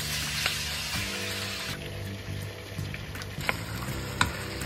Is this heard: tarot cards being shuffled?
no